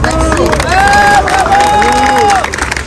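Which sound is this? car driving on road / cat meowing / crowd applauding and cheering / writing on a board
crowd applauding and cheering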